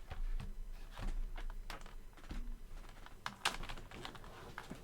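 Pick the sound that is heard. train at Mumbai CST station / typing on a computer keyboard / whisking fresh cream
typing on a computer keyboard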